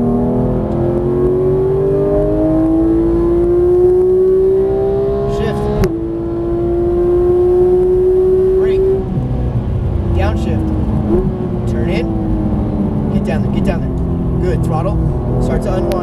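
Porsche GT3 engine on a race track, a steady loud rising engine whine that climbs through gear changes, close and continuous, with someone talking over it.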